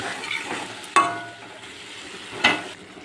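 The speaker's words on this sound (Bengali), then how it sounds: "এবারে এটা একটু কষিয়ে নিচ্ছি।" Fried potatoes are sautéed with a paste of ginger, green chilli and tomato plus cumin, coriander and turmeric powders, giving a low, soft sizzle broken by two sharp clanks of a spatula against the pan.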